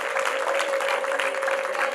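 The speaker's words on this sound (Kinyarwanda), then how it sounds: "mumwongere amashyi, mumuhe impundu" Wedding guests applaud steadily and loudly for the full stretch, a dense, even wash of clapping with no pauses, over a steady tone running underneath.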